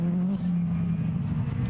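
A retro rallycross race car drives past on a circuit, its engine a loud steady drone that shifts slightly in pitch as it goes by.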